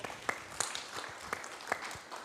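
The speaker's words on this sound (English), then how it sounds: "So give Joe a big round of applause." An audience applauds Joe with a quiet, sparse scatter of claps, some sharper than others, sounding thin and somewhat distant.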